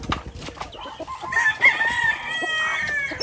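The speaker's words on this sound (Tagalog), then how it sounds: "Nagbabalik na naman po yung dating mga manok ni Papa." Backyard chickens, including young birds, cluck and squawk, with a drawn-out rooster-like call in the middle; the birds are fairly close, with a busy outdoor background.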